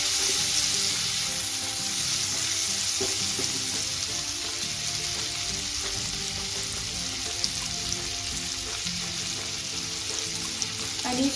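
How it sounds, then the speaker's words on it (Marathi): Chopped tomato, sweet corn and other vegetables frying in oil in a pan for spicy Indian-style macaroni, a steady close sizzle with occasional light stirring scrapes throughout, no voices. "हे सगळं एक 4 ते 5 मिनिट अगदी व्यवस्थित भाजून घ्यायचं आहे,"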